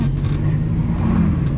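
A pimped-out car's engine drones loud and close in a steady low rumble, holding a continuous revving tone throughout with no clear break.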